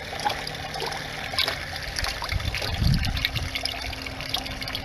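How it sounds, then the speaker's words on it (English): Water running and trickling from the pipes and open elbows of a homemade aquaponics system outdoors, a continuous splashing dribble with a louder gush near the middle, close and moderately loud. "we got water running everywhere here."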